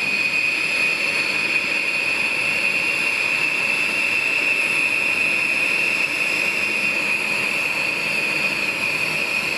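Two B-1 bomber jets run their engines, a loud steady roar with a high sustained whine that holds evenly throughout.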